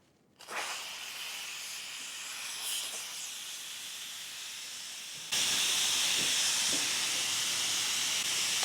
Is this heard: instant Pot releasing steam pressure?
yes